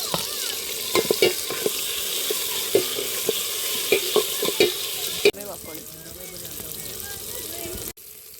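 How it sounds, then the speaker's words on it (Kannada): Tomatoes fry with already fried onions in a pan for a spicy egg sambar. A constant sizzle runs under repeated scraping stirs that tap against the pan, then the stirring stops and the frying continues more quietly. "ಈರುಳ್ಳಿ ಫ್ರೈ ಆದಮೇಲೆ ಟೊಮೊಟೊ ಹಾಕ್ಕೊತಾ ಇದ್ದೀನಿ"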